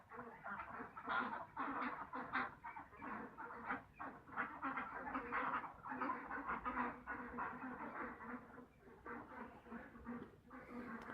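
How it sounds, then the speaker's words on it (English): Ducks quacking and chattering around a workshop built from reused 2x4s and fence pickets, a busy, continuous flock calling nearby throughout. "There go the ducks."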